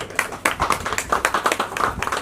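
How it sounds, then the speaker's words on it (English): Scattered clapping from a small crowd at an evening magazine launch event, a brisk patter of individual hand claps lasting a couple of seconds, fairly close and moderately loud. "And huge round of applause"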